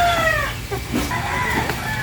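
A crowded flock of laying hens clucks and squawks continuously up close in a coop, with a rooster's crow rising above the dense, busy clamor.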